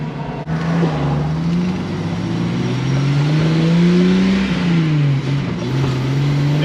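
A 1995 Jeep Wrangler with the 4.0 engine revs hard to high RPM, a loud, close, sustained drone that rises and dips in pitch over several seconds.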